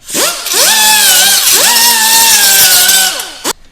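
An angle grinder deburrs a freshly cut metal part while installing a lift kit on a Toyota Tacoma. Two loud, close bursts: the motor whines up, holds a steady high pitch with gritty grinding over it, and then winds down.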